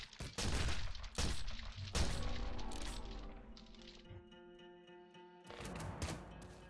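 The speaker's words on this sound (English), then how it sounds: "Laser minigun." A laser minigun fires in the Nuclear Throne Ultra Mod video game, sharp rapid bursts of crackling shots in several volleys, then a ringing electronic tail before another burst.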